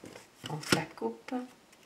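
A deck of Lenormand cards is cut, giving a few soft, brief papery riffles and slaps close by in a quiet room, with a voice speaking around them.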